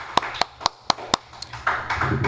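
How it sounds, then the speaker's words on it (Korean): Five or six sharp, evenly spaced hand claps ring out close and crisp in a quiet room, followed by soft shuffling and murmuring. "박수"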